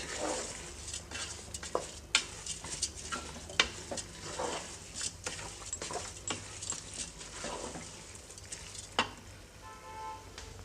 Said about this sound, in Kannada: ಅಕ್ಕಿನ ಹಾಕ್ಕೊಂಡ್ಮೇಲೆ ಒಂದು ಸರಿ ಮಸಾಲೆ ಜೊತೆಗೆ ಚೆನ್ನಾಗಿ ಮಿಕ್ಸ್ ಮಾಡ್ಕೊಳ್ಳಿ